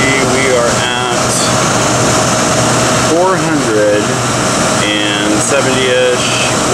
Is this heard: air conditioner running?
yes